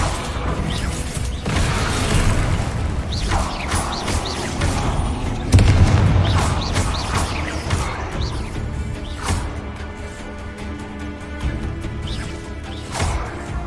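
Confringo fire-blast spells explode in Hogwarts Legacy: a run of sharp crashing booms and whooshes, with heavy impacts repeating every couple of seconds over a dense wash of game noise, the biggest blast landing midway through.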